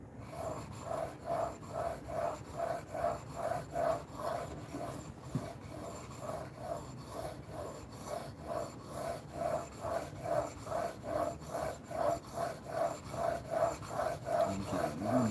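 A knife blade strokes back and forth across a 3000 grit whetstone in a steady, even rhythm of soft rasping scrapes, heard close and alone.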